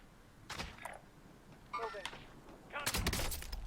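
Gunfire in Call of Duty Warzone, with several short bursts of shots that sound fairly distant, separated by brief quiet gaps and set against low background game noise.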